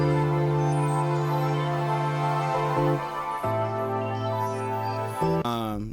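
A layered soul sample plays with piano, sustained pads and chords, and a counter melody on top. Held tones shift to new chords around the middle, and a brief rising flourish closes the passage.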